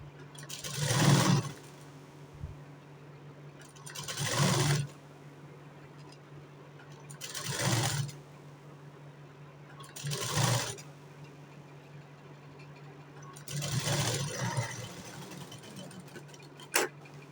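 A sewing machine stitches the boat neck of a blouse in five separate bursts of rapid whirring, each lasting about a second, with quiet pauses between them.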